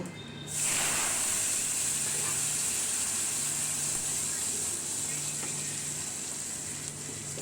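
Cut potatoes drop into hot oil tempered with radhuni, bursting into a loud, steady sizzle and hiss that carries on without a break, with a low hum underneath.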